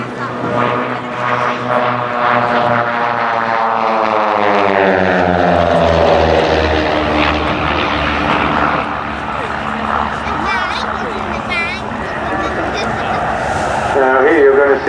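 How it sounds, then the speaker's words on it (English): A pair of propeller aircraft fly an aerobatic display at an air day, engine drone sweeping and shifting in pitch as they pass, with a commentator talking over it. "a very consummate and very tight demonstration of pairs aerobatic flying"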